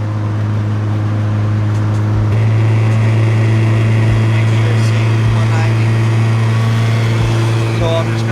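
A car engine running steadily while driving after a radiator repair, a loud constant low drone from inside the cabin with small thumps from the road.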